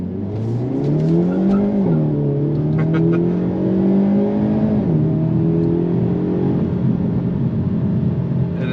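A 2022 Hyundai Elantra N's 2-liter turbocharged direct-injection four-cylinder engine revs hard in N mode and accelerates, its pitch climbing steadily with two brief dips as gears shift. Loud and close, with no talking.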